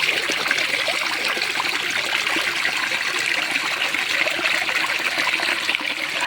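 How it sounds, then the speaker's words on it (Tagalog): Water rushing steadily down a small mini waterfall in Barangay Abuyon, a loud, unbroken splashing flow that stays close and constant throughout. "talagang napakasarap pakinggan ng rumaragasang tubig ng lagaslas ng tubig"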